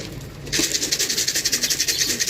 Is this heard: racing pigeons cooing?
yes